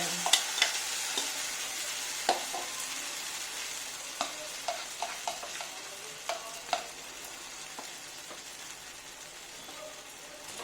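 Ground tomato, curd, cashews, raisins and green chili paste sizzle in a pan with pointed gourd, a moderate frying hiss broken by a run of sharp spoon taps and scrapes that thin out toward the end.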